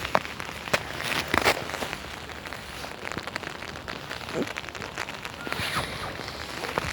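Steady rain falls outdoors on the way home, a dense pattering hiss with scattered sharper drops striking nearby surfaces throughout.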